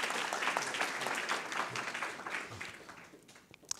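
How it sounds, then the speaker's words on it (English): An audience claps for an award winner at a university sustainability awards ceremony. The applause is steady and moderately loud, then thins and fades toward the end. "a quick round of applause for Alice"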